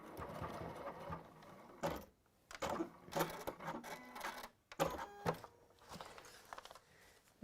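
A sewing machine runs a few short bursts of stitching to secure a seam, close up, with clicks and clatter between the uneven runs and no talk.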